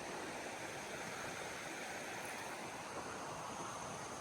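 Steady broadband rush of river water flowing on a rural property in Cavinti, Laguna, a constant close wash with no breaks and no voices.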